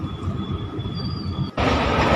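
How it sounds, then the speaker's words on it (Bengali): Train ride out of Howrah heading toward Shankarpur, heard from inside the carriage as a loud, steady rumble of wheels on rails with a faint tonal whine, then a sudden louder wash of noise near the end. "তারপরে এই হাওড়া থেকে ট্রেন ধরেছি, শঙ্করপুরের দিকে যাচ্ছি।"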